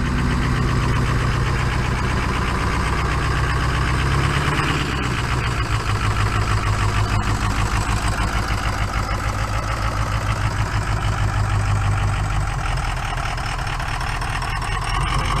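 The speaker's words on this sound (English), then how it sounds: "It's obviously down a cylinder." A smoking engine idles roughly while down a cylinder, making a loud, close, uneven throbbing with a lumpy, missing rhythm throughout and no voices.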